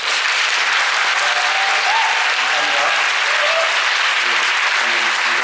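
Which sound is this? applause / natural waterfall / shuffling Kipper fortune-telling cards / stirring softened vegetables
applause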